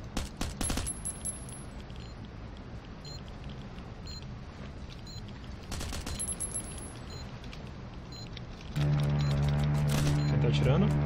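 Gunfire in the video game Last Island of Survival: two short, sharp bursts of rapid shots at the start and again near six seconds over a faint, steady background, followed by a sustained tonal hum near the end.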